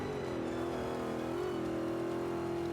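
A vintage Ford Mustang engine in the Forza Motorsport 5 racing game holds a steady, loud droning rev with a slight pitch shift midway, heard alone without talk.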